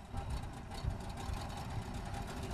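A pinasse boat's motor runs steadily, a dense, continuous engine drone with low rumble and broad noise, holding even and close throughout with no talk over it.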